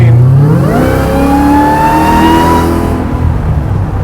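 A Hellcat-powered 1970 Plymouth Superbird restomod with 900 horsepower revs hard under throttle, the loud engine note climbing steadily in pitch with a deep mechanical growl, then easing off near the end.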